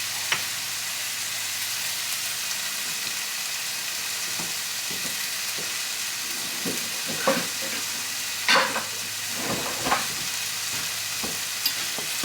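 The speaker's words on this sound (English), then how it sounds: "Let them fry in that oil." Tortillas frying in hot oil for a homemade Taco Bell-style Mexican pizza, a steady close hiss and crackle throughout, broken by a few scraping stirs and bubbling pops.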